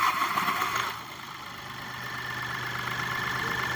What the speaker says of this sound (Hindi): इंजन का साउंड सुन सकते हैं कि इंजन का साउंड बिल्कुल सही हो गया है